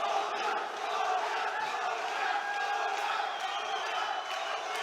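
A crowd at a Bani Balica vs Ndue Lleshi fight roars and shouts continuously, a dense steady wall of voices egged on by a cornerman acting as hype man.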